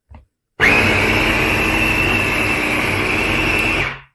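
A Babymoov baby food processor whirs as it blends three cooked foods into purée, starting abruptly after a short knock and running at a steady loud motor whine before winding down at the end.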